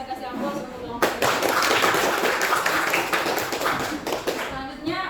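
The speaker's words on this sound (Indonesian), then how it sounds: "kita kasih aplaus untuk kelompok 5" Classroom applause for a group presentation in a teacher-training lesson erupts suddenly and holds as steady, close clapping from many hands for several seconds, then thins out toward the end, with voices heard before and during it.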